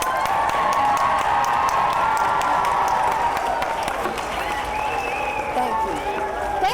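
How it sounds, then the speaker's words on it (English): Children and guests at a school Veterans Day program in Garland ISD applaud Representative Cindy Burkett, a steady crowd clapping mixed with cheering and chatter, a loud tone holding through it. "give a great round of applause for Representative Cindy Burkett"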